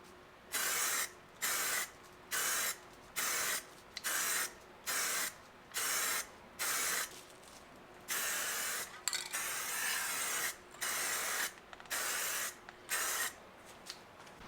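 Onyx Black SUPERWRAP liquid wrap sprayed in wet coats onto 19-inch Audi A4 wheels: a close, regular run of hissing spray bursts roughly every half second, with one longer continuous pass midway, no talking.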